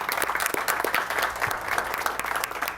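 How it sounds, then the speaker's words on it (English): Applause from the audience at a school board meeting, a steady, dense patter of many hands clapping for about three seconds, moderately near and fairly even in loudness. "One big round of applause for all the new faces in the audience."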